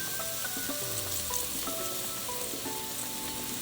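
Scallions simmering in a pan give a soft, steady sizzle with small pops and crackles, low and even throughout, with no voices.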